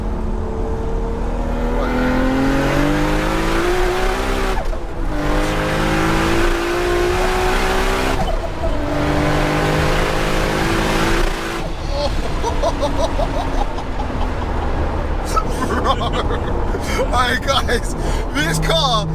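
A 1000 BHP Toyota Supra accelerates hard in repeated rising engine pulls with gear changes, loud and close, followed by a rougher, crackling stretch, while people talk over it.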